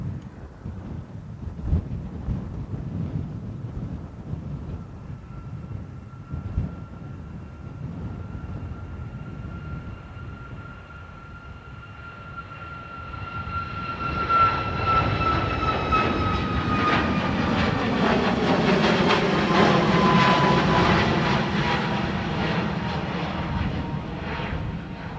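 Ryanair jet at Dublin Airport, heard first as a distant whine among wind gusts, then swelling into a loud roaring rush of engines with rising and falling tones as it passes close, then easing slightly.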